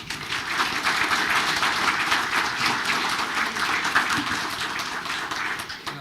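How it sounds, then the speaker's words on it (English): A township committee meeting audience claps for a few seconds, dense, steady applause in a room with no talk over it. "All right, little round of applause."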